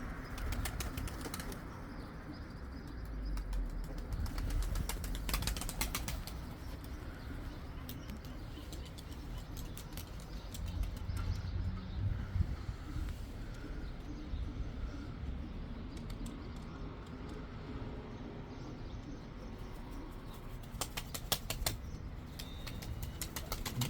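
Outdoors, flocks of tumbler pigeons flap and clatter their wings as they come in to land, the flapping bursts coming and going over a steady background rumble, with faint cooing and occasional distant voices.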